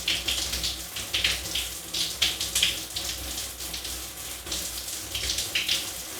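A shower runs with a steady rush of water, close and continuous, with rhythmic splashing surges throughout.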